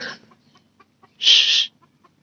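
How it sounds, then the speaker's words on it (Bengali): A rooster clucks close by: a short call, then a quiet pause broken by soft ticks and scratches, then a louder, harsher cluck lasting about half a second. "এই সাইজের একটা মোরগ আছে"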